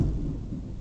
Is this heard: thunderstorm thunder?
yes